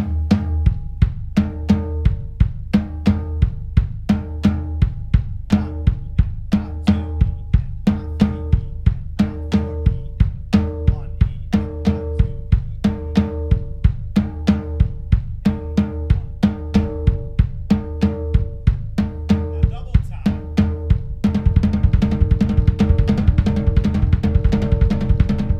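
Steady, fast kick drum double strokes from a pedal exercise repeat in a tight loop, with cymbal and other drum hits, growing denser and louder near the end.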